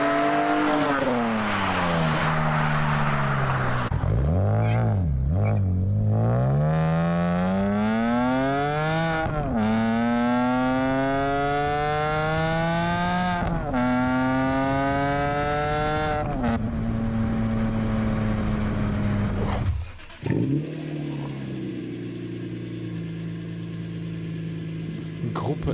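A BMW E46 M3's S54 engine with a raspy aftermarket exhaust climbs and falls through several rev sweeps, loud and close, then settles to a lower idle.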